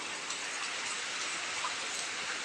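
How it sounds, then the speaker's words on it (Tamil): Heavy rain pouring down at 3 a.m., a dense, steady hiss of drops that holds at an even level the whole time, with no voices. "நல்ல மழைங்க, சோடு பெய்யுது."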